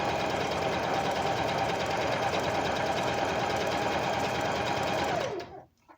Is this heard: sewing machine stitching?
yes